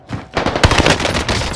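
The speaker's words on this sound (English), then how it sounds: "I'm under fire." Rapid automatic gunfire in the Warzone battle royale game, a dense loud burst of overlapping shots lasting over a second, close and continuous with no speech.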